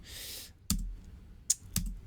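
A few sharp, separate keystrokes on a computer keyboard during German language practice on Duolingo, close and fairly quiet, with pauses between the clicks.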